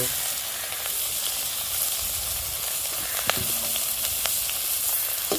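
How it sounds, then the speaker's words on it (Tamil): Flaked shark meat frying in a pan for sura puttu, a steady sizzling crackle with intermittent stirring scrapes and a few sharp pops. "நல்லா கிண்டிக்கிறணும், மிக்ஸ் பண்ணிக்கிறோம் எல்லாத்தோடையும்."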